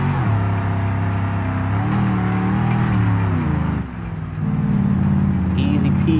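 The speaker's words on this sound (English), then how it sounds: "Here we go in the fully decked out roamer. Got it in 4-wheel drive, low range." A fully decked out Roamer minivan in BeamNG climbs a tough hill in 4-wheel drive low range, its engine droning steadily and loud with rising and falling pitch as it works up the slope.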